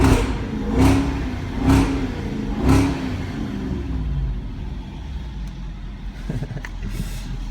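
A supercharged 5-litre 2009 Jaguar XKR revs hard three times in a tunnel, each blip a loud rising roar that falls back, then the engine settles into a steady idle rumble with a few faint knocks.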